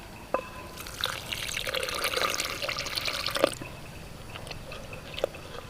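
Water poured into a pounded curry paste mixture for a Thai kitchen curry, a steady liquid splash and trickle of a few seconds followed by faint drips and small clinks, close by.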